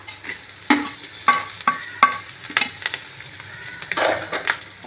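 Finely chopped green chilies fry with onions in a pan for homestyle chicken fried rice, a soft sizzle broken by several sharp scrapes and clanks of a spoon stirring against the pan, close up with no voices.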